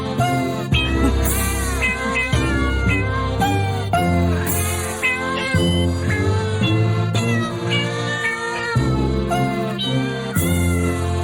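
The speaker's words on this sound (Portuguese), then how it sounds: "esses gatinhos cantando parabéns, Pedro." Kitten meows arranged into the tune of Happy Birthday over a steady musical backing, the mewing notes rising and falling continuously and loudly throughout.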